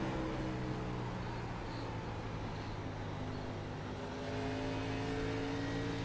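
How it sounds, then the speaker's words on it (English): An Xfinity race car engine in the iRacing sim holds a steady, droning throttle note with strong even harmonics, continuous and fairly close, rising slightly near the end with no voices. "Love to just listen to that throttle. It is just amazing in these Xfinity cars."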